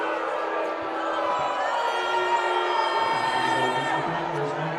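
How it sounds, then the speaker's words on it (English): Fans of Snider cheer behind the broadcast position at a girls high school basketball game against Homestead, a steady loud roar of crowd noise and shouting that continues through the whole stretch. "Couple of cheering Snider fans behind us, as you can hear."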